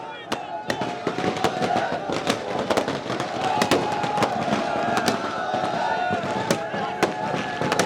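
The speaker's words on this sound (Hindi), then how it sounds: "युवा जो हैं किस प्रकार आतिशबाजी कर रहे हैं ये आप देख सकते हैं।" Fireworks and firecrackers set off by young people at a celebration outside Hanumant Hostel in Jodhpur, a dense rapid crackle of sharp pops and bangs with crowd noise underneath.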